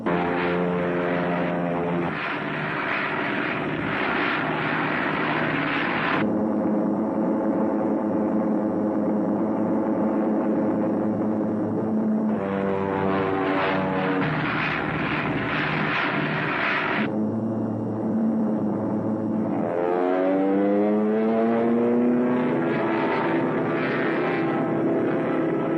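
Messerschmitt ME-109 fighter plane engine droning in flight during a 1943 wartime film scene, a steady loud propeller roar with shifting pitch and tonal swells running throughout.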